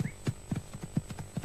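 Horse hooves clip-clop in a steady, moderately quick rhythm, about a dozen distinct hoofbeats in quick succession, fairly close and clear with no talking over them.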